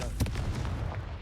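A Confringo fire spell blast in Hogwarts Legacy, a sharp booming burst at the start rolling into a dense rumbling crackle that fades over about a second.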